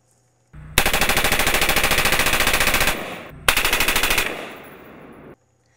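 An M4 carbine fires live rounds in two loud, rapid automatic bursts, the first lasting over two seconds and the second shorter, with a brief pause between them.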